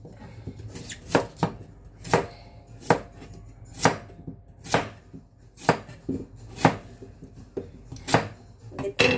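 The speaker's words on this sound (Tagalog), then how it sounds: "Akin ganito kasi ako mag-slice." A knife slices a carrot on a cutting board in a steady series of crisp chops, about one every second, close and clear with no talking.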